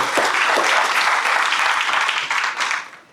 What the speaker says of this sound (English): So I actually want to say a round of applause for Ruby for that.